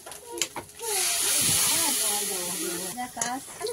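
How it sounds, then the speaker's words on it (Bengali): Egg curry with whole eggs cooking down in a pan, giving a steady broad hiss and sizzle through the middle of the clip, with voices talking over it at the start and end. "ডিমটা দিয়ে দিয়েছি, দিয়ে কষানো চলছে।"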